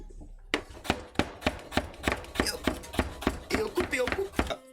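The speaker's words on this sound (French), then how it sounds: "On va couper ça en fines lamelles" Knife chopping 300 g of butcher's meat into thin strips on a cutting board for homemade lasagne: a dozen sharp, regular thuds about half a second apart, close and crisp, with slight rustling between strokes.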